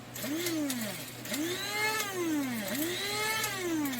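A food processor pulses on and off while grinding a plant-based chik'n mixture. The motor whirs up and winds down in about three loud, evenly spaced surges, with no talking.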